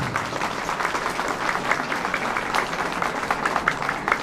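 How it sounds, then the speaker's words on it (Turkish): Festival crowd clapping, a steady, busy layer of applause with individual claps standing out, continuing at even loudness from start to finish. "Şöyle güçlü bir alkış"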